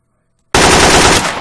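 Sustained burst of rapid automatic gunfire in the Garry's Mod DarkRP game, loud and close, starting abruptly after silence and rattling on without pause.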